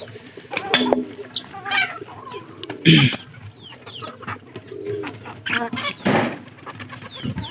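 Hen clucking among pigeons, scattered close clucks and short calls with soft cooing in between, irregular and moderately loud.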